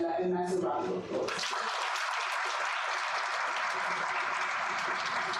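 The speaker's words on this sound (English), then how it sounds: "give the Deputy Minister Mandela a massive round of applause." An audience at a public dialogue event bursts into sustained applause right after a brief voice; the clapping is dense and even and continues steadily to the end.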